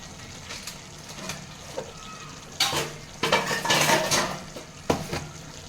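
Wedding-style mutton kosha is stir-fried with ginger-garlic paste and spices in a pan, with metal utensil scrapes and clanks over a low sizzle that grow louder and busier midway.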